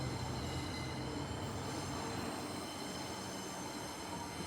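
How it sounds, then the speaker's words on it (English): A Transperth A-series train pulls into the siding at Daglish, a steady, loud, continuous rail rumble with faint wheel noise throughout and no voices. "there's a A series coming into the siding in between the Fremantle and Airport trains"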